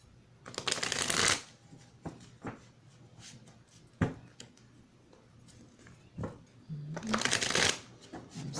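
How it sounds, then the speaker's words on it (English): Tarot cards are shuffled in two loud riffling bursts, with scattered taps and card handling between them, close up and quiet otherwise. "let me shuffle the cards."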